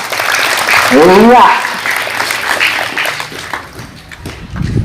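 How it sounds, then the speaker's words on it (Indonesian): Students at a school orientation give a short round of clapping in a hall, fairly close and fading after a couple of seconds, with a voice briefly speaking over it. "Tepuk tangan untuk kita semua"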